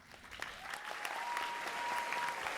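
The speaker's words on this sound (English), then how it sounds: "How come you're the only one that gets applause?" Studio audience applause during a father-and-son talk show, a quiet but steady patter of many hands clapping for a few seconds with a faint tone running underneath.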